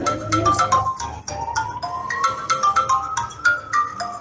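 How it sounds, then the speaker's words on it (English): A phone ringtone plays a rapid, repeating pattern of bright beeping tones, steady and moderately loud, with no talking. "your phone is beeping, I think"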